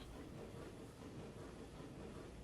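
A GCR train runs through a video game railway, producing a steady, unbroken rumbling roar at moderate level with no voices.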